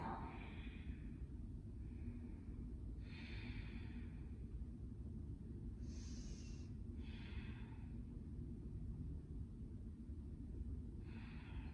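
Deep yoga breaths during a seated twist in a power flow class, slow inhales and exhales repeating in a steady rhythm, soft and close over a low background rumble.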